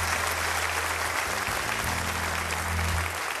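Concert audience at a hall applauding a gamba player, steady dense clapping with a low held instrumental tone underneath, no voices.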